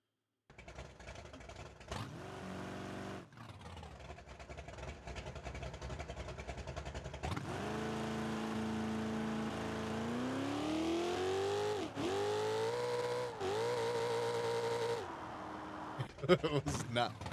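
A 1969 Chevelle drag car runs loud throughout, with engine revs broken by brief gaps, a long rising pull as it accelerates and a final sharp burst near the end.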